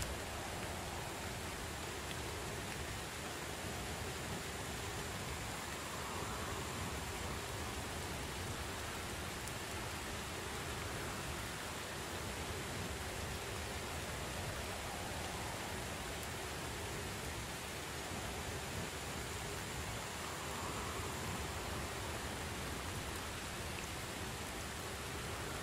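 Steady rain in the Dead Mist video game, a continuous, even hiss of falling water that holds at the same level throughout with no breaks or voices.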